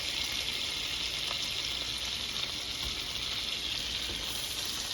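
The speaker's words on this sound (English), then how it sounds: "let me stir this around" Shrimp and capers sizzling in a lemon butter sauce in a pan while being stirred, a loud continuous hissing fry with a few faint scrapes, no talk.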